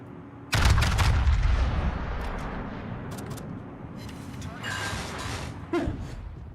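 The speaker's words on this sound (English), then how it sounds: "These are 18-inch guns." 18-inch naval guns fire in the World of Warships video game: one heavy, loud boom with a long rolling rumble that slowly fades, then a smaller sharp blast near the end.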